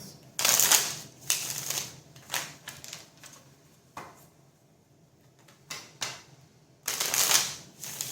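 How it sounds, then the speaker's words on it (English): A deck of tarot cards shuffled by hand in a quiet room, heard as several separate bursts of riffling and flicking with pauses between them, close by. "I've shuffled this. This came out in the last reading. I shuffled this."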